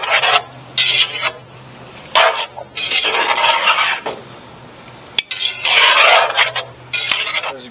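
Potatoes, pepper and onion powder get mixed in a pan at a campsite: bursts of scraping and rasping stirs come in uneven strokes, separated by brief pauses, close and fairly loud with no talking.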